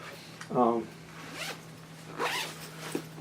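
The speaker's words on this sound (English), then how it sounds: "I just zipped it instead of unzipped it. It expands, so there's all kinds of zippers on it." A zipper on an expandable suitcase is drawn in several quick, close pulls, bright and rasping, with a short zip near the start and more strokes after. Soft rustling of packed clothes sits between them.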